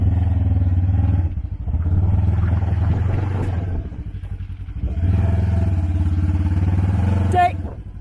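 An off-road vehicle's engine drones loud and close on a rutted road in Hurricane, Utah, a steady low rumble with one brief dip before it surges again. Clatter and scraping break in near the end, and people talk over it.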